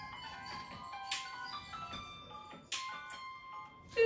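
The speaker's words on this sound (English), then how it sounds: "We got a phone call." A melodic electronic phone ringtone announcing an incoming call, faint tonal phrases repeating in a steady pattern with short bursts of brighter notes.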